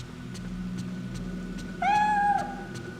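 A cat in the Fatal Frame III horror video game gives a single clear, drawn-out meow of about half a second, loud and close over a low, steady ambient game drone.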